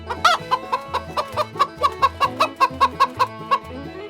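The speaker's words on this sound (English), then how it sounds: "Cluck cluck. That's the sound of a chicken." A farm chicken clucks in a quick run of about fifteen short, evenly spaced clucks, close and clear over a soft low musical backing, with no talk.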